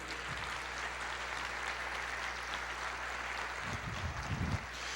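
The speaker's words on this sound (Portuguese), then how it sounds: "Você pode aplaudir o Senhor" Church congregation applauds, a steady wash of many hands clapping throughout, fairly distant and even, with a low hum underneath and a few brief bursts near the end.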